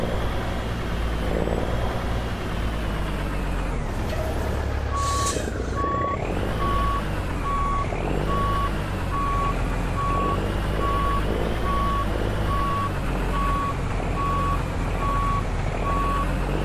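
A long American truck, a W900, reverses in Euro Truck Simulator 2, its reversing alarm beeping at a regular pulse over a loud, steady diesel rumble, with a brief hiss of air partway through.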